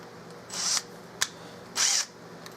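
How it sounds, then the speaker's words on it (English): Two short bursts of a power drill whirring as it drills an undersized screw hole down through a walnut gunstock, separated by a sharp click, in an otherwise quiet room. "I'm going to start to drill this screw hole that goes from the top down"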